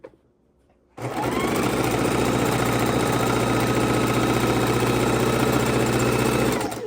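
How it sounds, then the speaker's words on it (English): A sewing machine runs steadily, stitching fabric scraps together for a scrap quilt, starting after a second of near silence and then holding a loud, continuous whirring hum with a fast rhythmic chatter. "we are just sewing our scraps and bits together"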